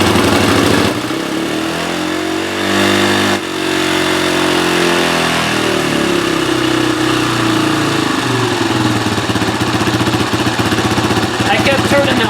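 A Honda CRF230 dirt bike with bogging and stalling trouble starts and settles into a loud, close, steady idle with an even rapid putter, its pitch wavering slightly at first before holding steady.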